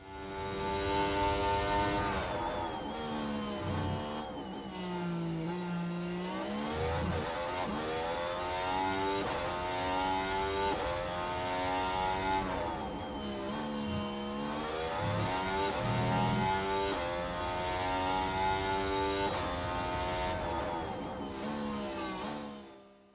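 A Lamborghini Formula 1 car engine in the racing game F1 Manager 2024 during a qualifying lap, a high revving whine rising and falling through repeated gear shifts and throttle lifts, loud and continuous with no talk.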